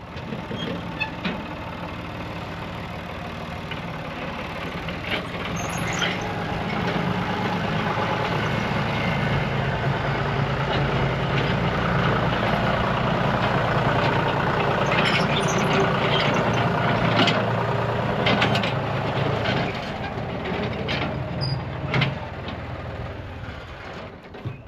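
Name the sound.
tractor driving into the machine shed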